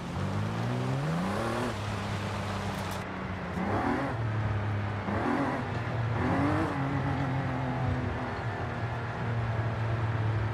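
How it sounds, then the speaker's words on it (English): A car in the Forza Horizon 5 racing game accelerating on a highway during a top speed run, a continuous loud engine roar that climbs through several gear shifts with rising pitch and no talk. "let's just take it on the highway and do a top speed run."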